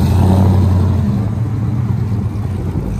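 A 2011 RAM 1500 with a 5.7L HEMI V8, long tube headers and 3-inch exhaust with 4-inch tip idles outdoors on a cold day, giving a steady, loud, deep rumble that continues without a break and carries no talk.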